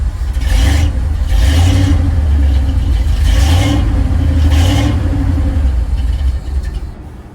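A carbureted car engine with a fault that makes it die when given gas revs loudly in repeated surges over a steady rumbling idle, then falls away near the end as it stalls; no talking.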